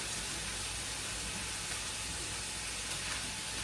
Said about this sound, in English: it's sizzling. And that's good. That means that the pan is nice and hot and the oil's nice and hot.